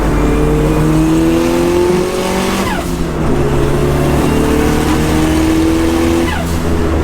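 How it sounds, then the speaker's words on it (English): A turbocharged hot hatch accelerates hard, its exhaust roaring loud and close as the engine note climbs through the revs, dips briefly at a gear change, then rises again. "you put your foot down, there's a little bit of turbo lag and then the boost comes in"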